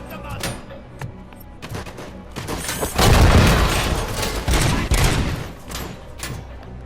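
Gunfire in the video game Robocop: Rogue City, a few sharp shots followed by a loud, sustained burst of rapid automatic fire with booming impacts that continues to the end.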